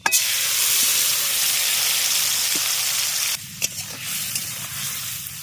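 Spiced gima greens hitting hot oil in a pan, giving a loud, steady frying sizzle that runs without pause and eases down slightly toward the end as the greens settle and are stirred.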